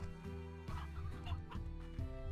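Briar hens in the video game Slime Rancher cluck in short repeated bursts, several overlapping clucks in a steady stream with soft ambient music underneath.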